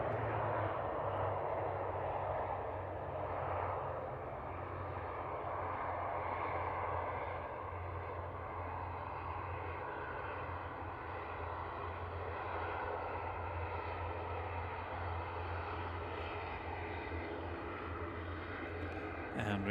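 Loganair aircraft from Inverness at Manchester Airport, a steady low engine drone held at moderate, fairly distant level throughout, with a voice talking faintly over it.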